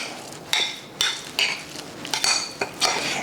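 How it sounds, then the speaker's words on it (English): A utensil stirs an egg salad mixture in a bowl, with a quick run of clinks and scrapes against the dish, close and fairly loud with no talking. "All right, get this stirred up, mixed up here."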